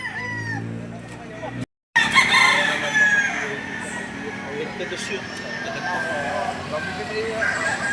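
Roosters crowing repeatedly amid a busy livestock auction market where chickens are laid out for sale in Lipa, with constant crowd chatter and voices talking throughout.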